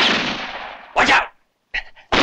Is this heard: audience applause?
no